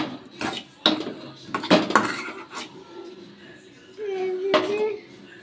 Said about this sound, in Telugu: ఇందులో వేసుకొని పాకంలో కొబ్బరి ముక్కలు బాగా కలిసేటట్టు కలుపుకోవాలి.